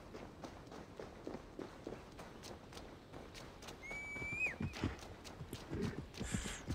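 A horse in Assassin's Creed Valhalla, hooves clip-clopping in a steady running rhythm at close range, with a brief whinny and a whistle-like call partway through, and no talking.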